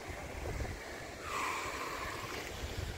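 Sea waves at Alibag beach make a soft, continuous wash that swells briefly partway through, faint and distant, mixed with wind and with no talking.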